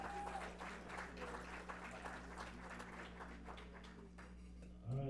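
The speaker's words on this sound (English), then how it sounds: "round of applause." An audience applauds at a powerlifting Masters World Cup competition, a steady patter of clapping from a crowd heard faintly against a low hum.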